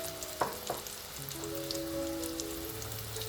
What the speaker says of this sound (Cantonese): 油溫升到160度，筷子周圍有小氣泡嘅出現，就放入去嗰啲豬扒再炸。